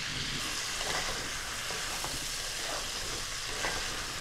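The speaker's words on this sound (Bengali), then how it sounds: "ফুলকপিগুলো হালকা ভাজা হয়ে গেছে, এই পেঁয়াজ আদা রসুনের পেস্টটা দিয়ে দিচ্ছি" Onion, ginger and garlic paste frying with lightly fried cauliflower florets in a pan, a constant loud hissing sizzle heard up close with faint crackles and no voices.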